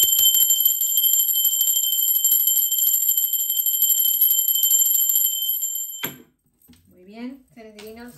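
A small bell rings during a tarot card reading, a bright, sustained metallic tone with rapid shimmering strokes lasting several seconds before it stops abruptly, after which a person speaks.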